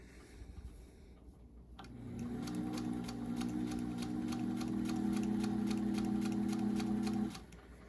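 A sewing machine stitches a curved seam, starting after a quiet pause and running in a steady, rapid, even rhythm for about five seconds before stopping. The machine is close and alone, with no talk.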